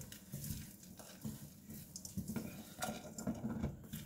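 Cauliflower rice with seasonings is stirred in a pan on the stove, with soft scraping and clinking of a utensil against the pan in an irregular rhythm, close and quiet.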